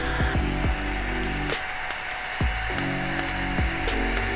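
An at-home laser hair removal device in SHR mode gives a steady electrical buzz punctuated by repeated short zapping clicks in an irregular rhythm, close and fairly loud, with no talking.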